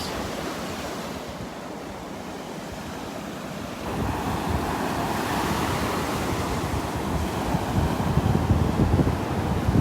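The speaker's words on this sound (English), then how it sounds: "the waves." Ocean surf washing onto a beach in North Naples, Florida, a steady broad roar of breaking waves with wind buffeting the microphone, growing louder partway through, with no talking.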